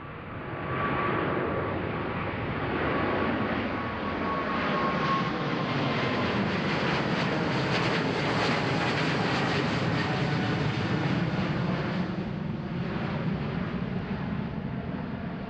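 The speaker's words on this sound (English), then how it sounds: "There goes that helicopter. Still circling around the tower." A helicopter circling an airport control tower at Amsterdam Schiphol, a continuous rotor and engine drone that swells toward the middle and then fades slightly, heard alone without talk.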